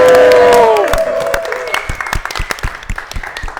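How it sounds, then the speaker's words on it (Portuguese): A church congregation breaks into a round of applause for a girl's birthday celebration, starting right after the singing stops; steady clapping continues, loud and close, with some voices mixed in. "uma salva de palmas."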